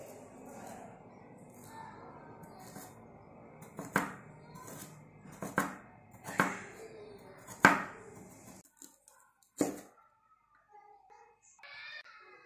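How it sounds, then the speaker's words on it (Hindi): A knife slices peeled carrots into rounds on a board, giving a series of sharp, separate chops with irregular pauses against a quiet kitchen background. "अब इन गाजरों को गोल गोल काट लेंगे।"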